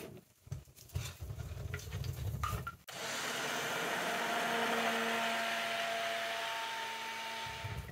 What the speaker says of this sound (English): we're going to use the blender to bring it to, again, a light to medium kind of trace